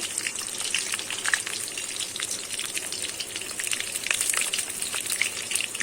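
Pointed gourd (potol) pieces frying in hot oil, a steady dense crackle and sizzle with scattered sharper pops, close and continuous throughout with no voices.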